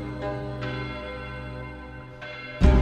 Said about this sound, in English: The ringing of the division bell had begun.